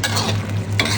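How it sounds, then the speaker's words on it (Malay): Seasonings, salt and soy sauce being stirred into a pan of beef in a home kitchen, a steady close scraping stir over soft sizzling for the whole second. "Kita gaul dulu."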